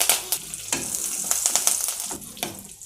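Mustard seeds, urad dal, dried red chillies and curry leaves hiss and crackle in hot coconut oil, a continuous close sizzle dotted with sharp pops and spatters, no voices.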